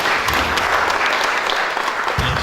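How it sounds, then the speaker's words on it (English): An audience at a public lecture claps loudly and steadily, a dense wash of applause throughout. "Can we give a very big hand clap?"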